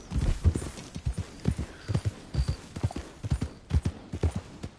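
Horse hooves clip-clop in a steady galloping rhythm, close and fairly loud, in Red Dead Redemption 2 in Scarlett Meadows, with a faint whinny and no talk over the repeated hoofbeats.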